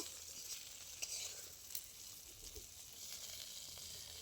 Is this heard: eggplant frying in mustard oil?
yes